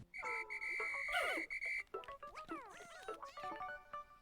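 A whistle from the Pikmin 4 video game calls the red Pikmin, a bright sustained tone followed by warbling, bending chirps and short bleeps from the game, with no talk.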